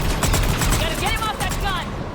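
Mounted gun firing in the video game Mass Effect 3, a rapid burst of repeated shots in quick rhythm, loud and close, with shouted voices and battle noise mixed in.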